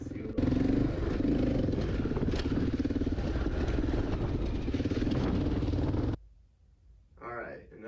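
A cheap used dirt bike runs hard on dirt roads on a rural property, its engine a loud steady drone for about six seconds before cutting away to quieter sound with a brief voice near the end.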